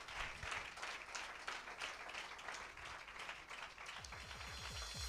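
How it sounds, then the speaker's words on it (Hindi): A congregation claps hands together in worship at a Hindi-language church service, a dense, steady wash of clapping that continues for several seconds, fairly distant and even. "हम पिता पुत्र पवित्र आत्मा के लिए ताली बजाएं"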